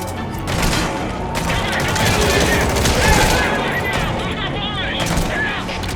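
Dense, loud automatic gunfire from the video game Metal Gear Solid V: The Phantom Pain rattles on without pause, with shouting voices mixed in under the shooting.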